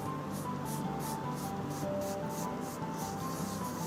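Hands rhythmically rub oil and cornflour into stacked khaja dough sheets, a steady run of soft, dry scraping strokes, close and continuous, with no talking.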